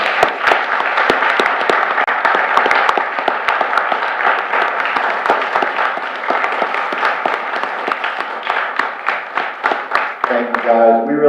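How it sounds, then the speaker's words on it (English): A room full of people at a Swansboro town board meeting applauds the police department with steady, dense clapping for about ten seconds, fading slightly before a voice begins speaking at the end. "Give them a big round of applause."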